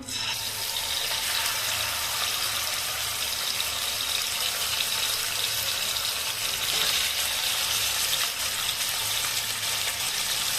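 Chicken sticks frying in white cooking oil in a wok, giving a steady, loud, hissing sizzle that holds evenly throughout with no talk.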